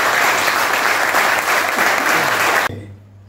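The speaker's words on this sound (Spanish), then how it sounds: "Así que un fuerte aplauso también para todos." A crowd at a community event in Ansenuza, Córdoba, bursts into loud, sustained applause, a thick continuous clatter of hands that stops abruptly, leaving a faint low hum.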